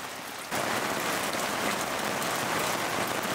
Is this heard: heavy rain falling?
yes